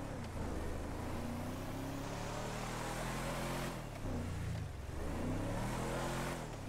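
Badly damaged Ford F-250 engine running in GTA 5, a steady droning motor with rising and falling revs and a rough low rumble, close and continuous without talk.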